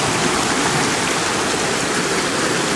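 A mountain stream at a backcountry water crossing in Roaring Plains, West Virginia, pours in a constant, close hiss of rushing water with no voices.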